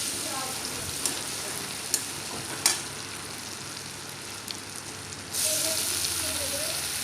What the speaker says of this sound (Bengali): সরিষার তেল গরম করে নিয়ে আমি এতে দিয়ে দিচ্ছি রসুনটাকে ভালো করে লাল লাল করে এতে ভেজে নিব।